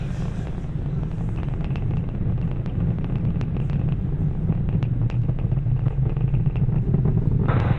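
SpaceX Falcon Heavy engines roar as the rocket climbs through max Q during a launch, a steady low rumble with crackling bursts, constant and loud throughout.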